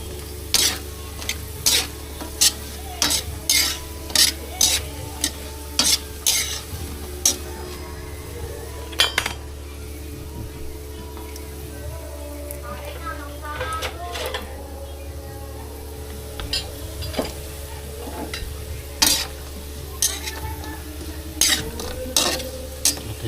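Fishballs frying in oil until brown and crispy, with a low steady sizzle under repeated sharp metal clinks and scrapes of a utensil stirring in the pan, spaced irregularly throughout, plus a faint background hum.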